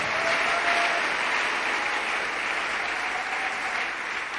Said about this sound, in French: Acclamons le Seigneur très très fort